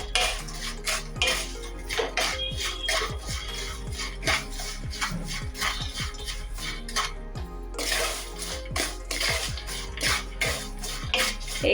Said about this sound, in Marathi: दोन चमचे पिठी साखर एकदम मिक्स करून घेऊया